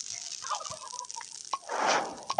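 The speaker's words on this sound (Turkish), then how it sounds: "Hindiler dönüyor." Turkeys gobble in a forest survival video game, a few short, faint warbling calls followed by a louder burst of rustling noise, with no talk over them.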